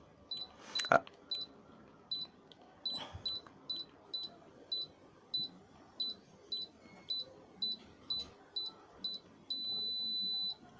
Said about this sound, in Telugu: ఏ వన్ దగ్గర మనకు లాంగ్ బీప్ వచ్చింది